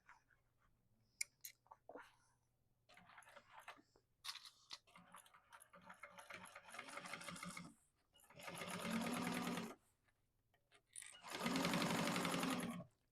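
A domestic sewing machine bastes fabric seams for a bag, stitching in two steady, loud bursts after quieter handling clicks, fabric rustles and pauses.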